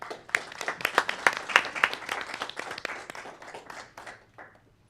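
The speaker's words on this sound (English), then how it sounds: "we just want to give him a round of applause" Applause at a city council meeting starts as scattered individual claps, swells into a dense round of clapping from the room, then thins out and fades over a few seconds.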